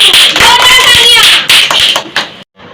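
Loud clapping from an audience cheering a child at a church kids' Bible competition, dense and steady for about two seconds, mixed with children's voices, then tapering into a few scattered claps.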